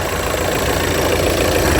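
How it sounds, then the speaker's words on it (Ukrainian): A 2019 Skoda Kodiaq 2.0 engine idles steadily up close, a continuous low rumble with a faint rhythmic knock and no talking. "Ну, Двигун працює просто як часи."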